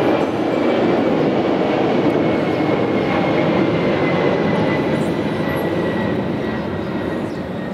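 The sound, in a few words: aircraft passing overhead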